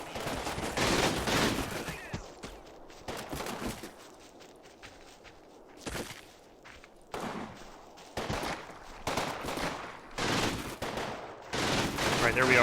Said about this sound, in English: I need to get some mortar fire on this building.